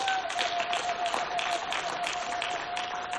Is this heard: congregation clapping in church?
yes